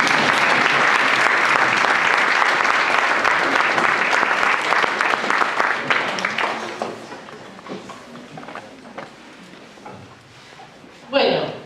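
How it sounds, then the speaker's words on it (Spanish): An audience at an open university class gives dense, loud applause that gradually thins into scattered claps and fades out, ending in a brief louder sound. "Hay que aplaudir"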